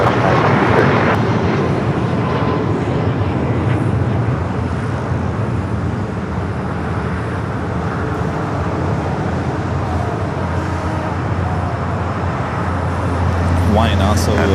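An airliner takes off from runway 25 right at Los Angeles International Airport, a loud continuous engine roar that holds steady throughout, with radio voices talking over it.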